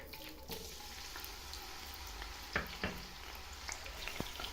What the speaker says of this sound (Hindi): ऑयल गरम हो चुका है तो अब हम इसमें टमाटर डालेंगे।